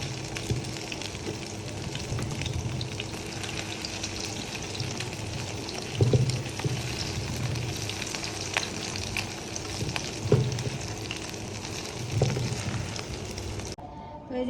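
Fish roe fritters fry in an oil-filled pan, a constant close sizzle broken by a few knocks and scrapes as pieces are turned over, ending abruptly near the end.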